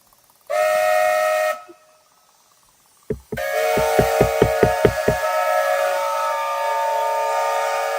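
A steam whistle blows loud and close in a steady harmonic tone, stops, then returns after a couple of sharp thumps and a rapid run of clanks, sounding on continuously to the end.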